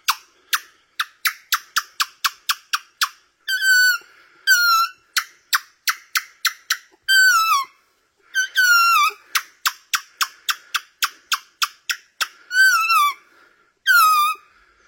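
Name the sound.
person imitating a monkey call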